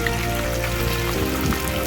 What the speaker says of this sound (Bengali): তেল গরম হয়ে গেলে মরলা মাছগুলো দিয়ে